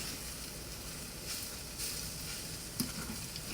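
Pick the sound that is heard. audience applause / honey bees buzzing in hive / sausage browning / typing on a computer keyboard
sausage browning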